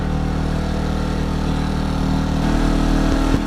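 A Predator 2000 generator drones steadily and loudly at close range while powering a Skil saw under load, a continuous engine hum with no speech over it.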